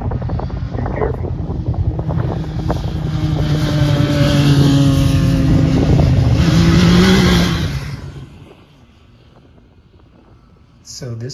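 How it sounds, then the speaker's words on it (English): Kids' small cars drive across sand dunes at Little Sahara, Waynoka, Oklahoma, a rising engine drone mixed with wind buffeting on the microphone, then dropping away sharply; people talk over it. "this was actually the first time out in the dunes that I have witnessed my son driving his car and my daughter driving her car"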